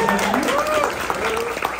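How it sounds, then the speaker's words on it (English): Audience applauds a live music performer at an event for content creators, with steady clapping throughout, mixed with music or voices in the background. "so give a round of applause for"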